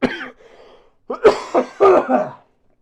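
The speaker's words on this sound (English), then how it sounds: "I've been holding back like 10 coughs this whole video because I'm sick" A sick person coughs once, then after a pause lets out a rough run of three or four close coughs.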